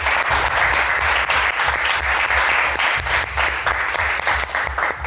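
Studio audience on a French television game show breaks into dense, steady applause, loud and continuous from start to finish with no talk over it.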